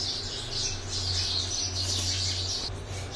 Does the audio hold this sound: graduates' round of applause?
no